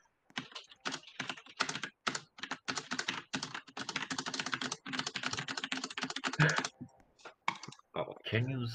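Rapid computer keyboard typing during a Roblox game session, a dense run of crisp clicks and key taps that continues almost without pause, close and fairly loud, with a brief pause and a low tone near the end.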